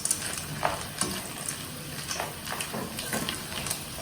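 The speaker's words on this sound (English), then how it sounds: "Mix it a little bit." Raw macaroni stirred as it fries in a pan, a continuous close sizzle broken by irregular scraping clicks of a spoon, no voices.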